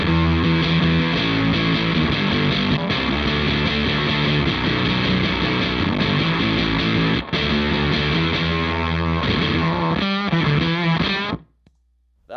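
An electric guitar runs through a fuzz pedal into an Iron Drive overdrive, playing a dense, continuous distorted riff for about eleven seconds before stopping abruptly. It is loud and close, with no voices.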